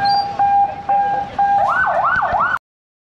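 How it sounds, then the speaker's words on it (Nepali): A loud horn or siren sounds at a protest scene in Tinkune with tear gas and rubber bullets: short steady blaring tones, then a fast rising-and-falling wail that cuts off abruptly. "कत्रो ठुलो हुँदो रहेछ हर्न पनि"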